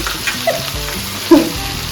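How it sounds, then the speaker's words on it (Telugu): Dried fish frying in a pan for a tamarind-and-taro curry, a soft crackling sizzle with a couple of brief stirring scrapes, close and steady, no voices. "చేపలు అయితే సగం వేగినాయి"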